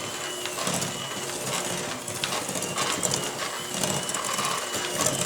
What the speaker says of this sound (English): we're just going to mix that all up and cream that all together